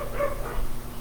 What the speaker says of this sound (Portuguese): perdão pelo latido dos cachorros